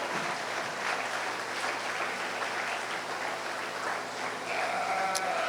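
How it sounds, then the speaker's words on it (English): Spectators give a long, steady round of applause at a 4-H sheep show, even dense clapping throughout, with sheep bleating faintly in the background near the end. "Let's give these young people a really, really good round of applause."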